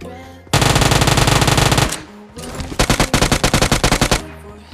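UZI submachine gun fire in PUBG Mobile: a long rapid burst of loud, sharp shots, a brief pause, then a second choppy burst of fast shots close up.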